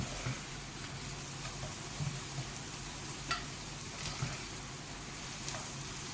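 Chopped onions sautéing in a pan over a gas flame for mutton koftas, a steady low sizzle and crackle with occasional faint scrapes, fairly quiet and continuous with no talking.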